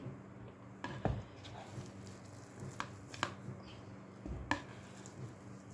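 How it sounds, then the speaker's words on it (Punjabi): Boiled potatoes being mashed by hand for pakoras, giving soft, irregular squishing and tapping strokes with a few sharper knocks, fairly quiet and close with no talk. "ਹੁਣ ਅਸੀਂ ਇਹਨਾਂ ਨੂੰ ਨਾ ਇਹਦੇ 'ਚ ਹੌਲੀ ਹੌਲੀ ਸਾਰਿਆਂ ਨੂੰ ਮੈਸ਼ ਕਰ ਲਾਂਗੇ"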